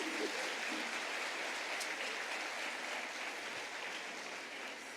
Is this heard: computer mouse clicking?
no